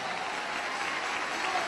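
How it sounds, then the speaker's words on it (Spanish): A church congregation applauds in a dense, steady wash of clapping that fills the room, with a faint voice in the background. "Dele ese aplauso a Jesús, hermano"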